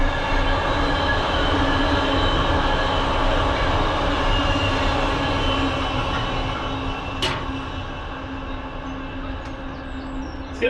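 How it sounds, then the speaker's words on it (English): Loud rail noise beside a canal narrowboat as a train passes close by, a steady roaring clatter that eases slightly toward the end, with a few faint high squeaks. "these trains are noisy by the way."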